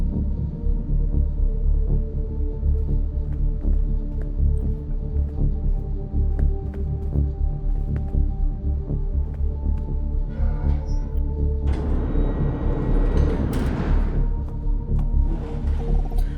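An elevator in the video game Minds Beneath Us runs with a loud, continuous low hum and throbbing drone, swelling into a rushing, grinding surge near the end.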